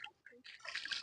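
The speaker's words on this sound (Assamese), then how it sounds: "প্ৰথমে পানী ভৰা" Water splashes and trickles into a container, filled for a bath beside the Ganga river. The burst is short and quiet, with a brief gap before it builds to a brighter, fuller pour.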